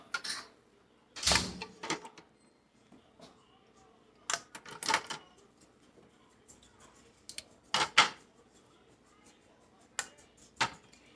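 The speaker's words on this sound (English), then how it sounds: "Now let's go on over to the canner. Okay, so we're over here at the canner and I'm going to stick my jars in." Glass canning jars set down one by one into a home canner, giving a few sharp clinks and knocks spaced irregularly, close and fairly loud against a quiet room with faint background noise.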